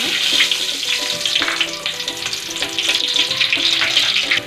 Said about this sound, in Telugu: ఇప్పుడు మనం ఇందులో ఉల్లిపాయ ముక్కలు వేద్దాము.